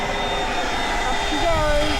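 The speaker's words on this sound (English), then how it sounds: "We're gonna blow the mattress up." An electric pump, powered from the V2L outlet of a new Zeekr 7X while camping on Kangaroo Island, inflates an air mattress with a steady, close whirring rush throughout, and a voice sounds briefly near the end.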